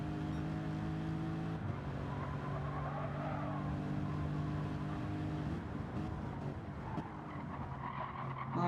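Race cars running bumper to bumper on the Daytona infield course in a sim racing game, engines droning and whining together with tire squeal and skidding, steady and continuous throughout, gear changes shifting the pitch now and then.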